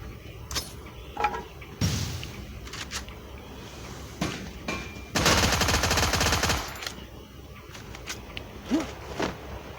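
A Thompson submachine gun with a golden dragon skin fires in a video game, with short bursts and single shots, then a long sustained burst of rapid loud gunfire in the middle, all close and without speech.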